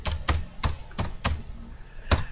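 Keys on a computer keyboard are struck while typing into Notepad. About six crisp, separate clicks fall at an uneven pace, close and fairly quiet, with no talking.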